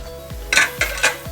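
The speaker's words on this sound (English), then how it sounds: "Always mash when the fire is on" Boiled sweet potatoes mashed in a pot over a low flame, three sharp clanking knocks of a utensil against the pot at an uneven pace, close and loud, with no talking.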